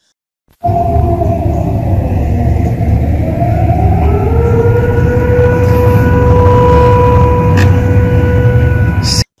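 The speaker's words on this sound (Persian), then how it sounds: "شبیه هشدار حمله هوایی در غرب تهران" A loud air raid siren wails continuously in western Tehran, sounding from a technical fault, its pitch slowly rising and falling over a low rumbling background, with no talking.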